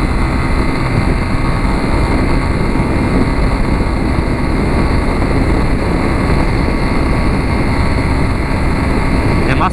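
A 2013 Yamaha Fazer 250 motorcycle at speed on a highway, a loud, steady engine drone mixed with heavy rushing wind noise throughout, without clear changes in pitch.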